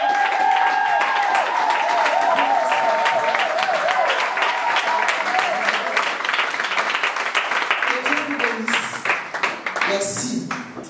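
A church congregation applauds together, giving a dense, sustained wash of clapping. A voice is heard early over the applause, and near the end a few distinct claps and voices stand out.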